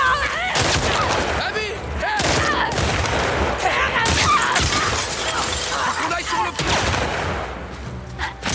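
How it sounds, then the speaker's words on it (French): Sniper rifle fire in The Last of Us Part II, with sharp cracking shots and shattering impacts layered into dense, loud combat noise that carries on without break for the whole stretch. "Le sniper va me toucher"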